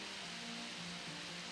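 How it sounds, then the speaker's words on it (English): Heavy rain pours down in a mountain wilderness, a steady, dense hiss that stays faint and even through the brief moment, with a low hum underneath and no voices. "Look at the rain just coming down like crazy."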